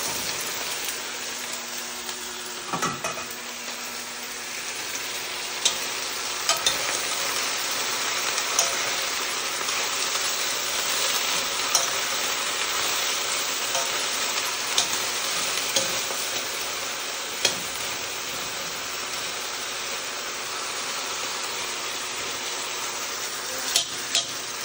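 Kare kare with chopped banana heart being stirred in a pan over heat, a steady dense sizzle and bubbling throughout with occasional spoon scrapes and clinks against the pan, close and continuous, no talking.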